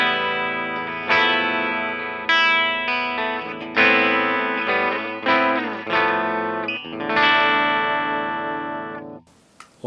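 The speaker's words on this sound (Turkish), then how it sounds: "Köprü manyetiğinden başlıyoruz clean tonlarla." A Sire Larry Carlton L7 electric guitar on its bridge pickup plays a clean tone through a Vox amp. Close, bright chords and short melodic phrases ring out and decay, with a little shimmer and echo on the notes.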